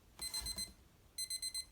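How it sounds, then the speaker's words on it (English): A small DreamSky digital alarm clock radio beeps while its alarm is being set: a bright burst of four quick beeps, a short pause, then four more, clear and close with nothing else around. "Press alarm set."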